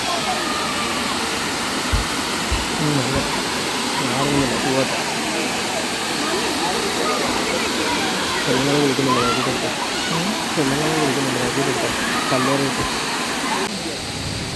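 Gunung Pulai waterfall in Johor, Malaysia, where hikers wade in the water: a constant broadband rush of falling water fills the scene, with people talking over it at several points.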